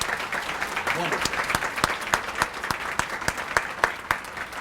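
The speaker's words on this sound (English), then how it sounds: "please join me with a big round of applause" Members at a Louisville Rotary Club meeting give a sustained round of applause, a dense close wash of clapping with distinct individual claps standing out as it goes on.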